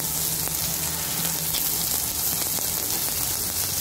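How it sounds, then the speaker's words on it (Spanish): Vegetables including zucchini, red onion and tomato sizzling on a grill, a steady hiss and crackle of frying with faint pops, continuous and close. "Entonces voy a pasar nuestros vegetales a la parrilla."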